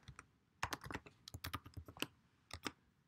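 A password typed on a computer keyboard, crisp close key clicks in quick irregular bursts with short pauses between, quiet and alone.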